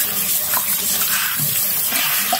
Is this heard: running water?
yes